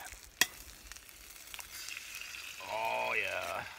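Eggs fry in oil in a pan beside salami outdoors on a winter ice-fishing trip, a soft, faint sizzle after a sharp knock, with a voice talking over it near the end.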